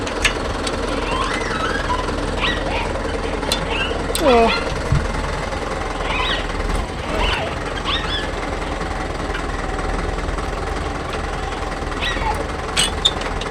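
A Mahindra Yuvo Tech Plus 585 DI tractor pulls a 9-tine cultivator across a field, giving a loud, steady diesel knocking drone. People talk over the engine throughout.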